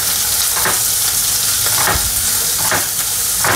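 Onion pieces fry over a high flame, a loud steady sizzle broken every second or so by a scraping stir, with no voices.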